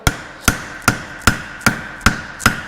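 Steady hammer blows ring out on hot steel as a farrier shapes a horseshoe on an anvil, seven sharp metallic strikes at an even rhythm, close and loud, with no talking.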